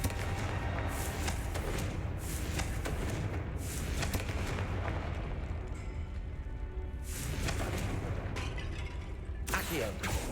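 Confringo blasting spells cast in Hogwarts Legacy, several loud bursts and thuds spread across the clip over steady game noise and rumble.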